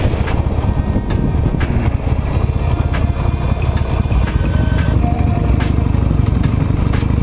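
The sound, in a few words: Harley-Davidson Nightster motorcycle riding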